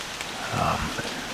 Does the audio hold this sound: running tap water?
no